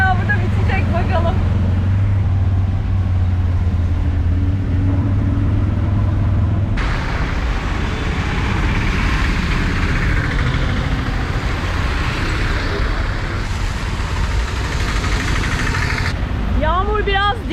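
A tuk-tuk rumbles through traffic in Mombasa, Kenya, with a low engine hum at first, then a steady wash of road and street noise, and voices now and then.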